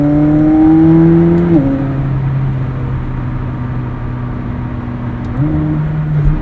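An orange McLaren 765LT sports car's engine drones steadily, its note stepping down once in a shift and rising again near the end, loud and continuous throughout.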